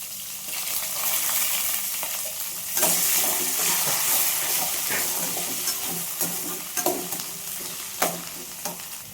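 Onions, curry leaves and crushed garlic frying and being stirred in a pan for a Nellore-style pappu pulusu, with a steady close sizzle and occasional scraping stir sounds, no talk.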